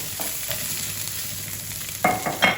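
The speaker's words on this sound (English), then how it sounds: "let's get the quinoa in" Quinoa sizzles in a hot pan as fried rice is made, with a steady frying hiss and a few louder scrapes and clatters from stirring near the end.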